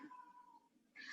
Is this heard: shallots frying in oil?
no